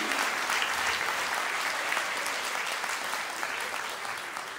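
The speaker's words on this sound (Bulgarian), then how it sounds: "Аплодисменти." Audience applause follows a Bulgarian drumline performance by a 17-member ensemble: dense, sustained clapping from a large crowd fills the whole stretch, steady and loud before easing slightly at the end.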